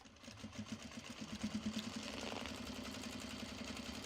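Sewing machine basting with a larger seam allowance, a close, rapid mechanical stitching patter that starts in uneven bursts and settles into a steady continuous whir, with no talking.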